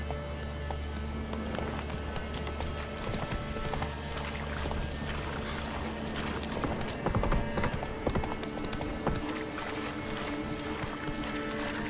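Horse hooves clip-clopping at a run in The Witcher 3 video game, a steady close rhythm of hoofbeats over a dense in-game ambience that continues for the whole stretch, with no talking.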